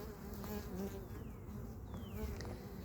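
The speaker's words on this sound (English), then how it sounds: "Our bees are getting a little grumpy." A dense, continuous drone of many agitated honey bees buzzing close by during a hive inspection, with occasional individual bees zipping past, steady and busy throughout.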